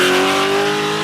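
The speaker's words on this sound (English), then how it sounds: "you just can't beat the sound of a V8" An Australian V8 car engine revs loud and close, a steady full-throttle roar with strong harmonic drone and no voices.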